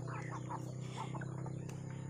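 Soft clucking from a few chickens comes through in short bursts over a low steady hum, fairly faint and close.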